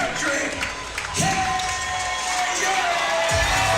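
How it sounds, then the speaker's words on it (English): A fight-night arena crowd cheers and whoops continuously before a bout, a dense roar of voices under an announcer's amplified introduction. "the crowd is excited for this fight too"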